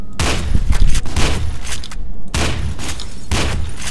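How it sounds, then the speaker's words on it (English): Gunfire in the video game F.E.A.R. 2: loud, close, continuous volleys of shots with booming hits, broken by a brief gap before the firing resumes. "Where am I getting shot from?"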